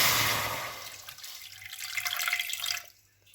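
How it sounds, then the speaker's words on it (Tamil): A small amount of water poured into a cooking pan to be heated for spinach (keerai) curry: a loud rushing splash that fades, swells briefly again and then stops. "கீரையை சமைக்கிறதுக்கு இப்படி ஒரு சட்டியன் எடுத்து நாங்கள் கொஞ்சமாக தண்ணி விட்டு தண்ணியை சூடாகி கொள்வோம்"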